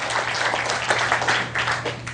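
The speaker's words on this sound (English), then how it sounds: "Give me a nice round of applause, folks." Audience at a live hypnosis stage show applauding a volunteer, a short burst of dense, steady clapping from many hands close by.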